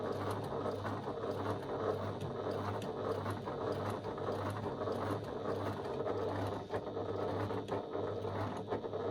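A home sewing machine runs steadily, stitching around a small fabric bag strap key keeper with a narrow seam. It gives a fairly quiet rapid mechanical whirr with rhythmic ticking and no voices.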